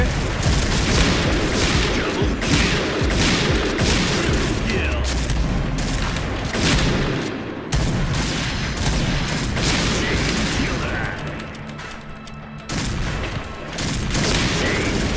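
Heavy sniper rifle shots from a Barrett and a Kar98k boom repeatedly in the shooter game Point Blank, loud cracks spaced through dense battle noise, with a player talking at times.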